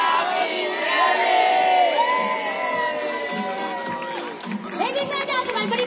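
A crowd shouts together at a community run promoting a healthy lifestyle, producing loud mixed cheering and whooping voices with rising and falling calls throughout.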